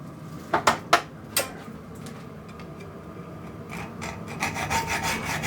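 Metal being filed by hand in a workshop: a few sharp knocks, then steady rasping strokes that build toward the end, close by with no talking.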